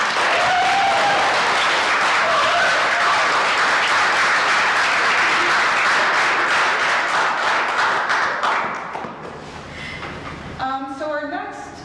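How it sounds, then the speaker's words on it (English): Dense, sustained applause from a council meeting audience greeting young members, loud and steady for about eight seconds before fading into scattered claps and a brief voice at the end. "I would like to give the youth a round of applause."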